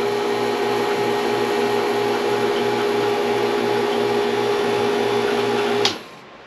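A Fieldpiece VP67 vacuum pump runs steadily on test with a loud, close, even hum and a pulsing mechanical throb, then cuts off abruptly near the end with a short click.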